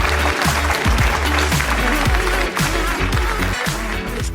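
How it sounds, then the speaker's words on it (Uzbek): An audience applauds at a stand-up comedy show, loud, dense clapping that holds steady throughout over rhythmic background music with a thumping bass beat. "Qarsakiylar."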